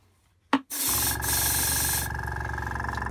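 An airbrush sprays out water after a sharp click, a loud, steady broadband hiss for about two seconds that then thins into a lighter, sputtering spray.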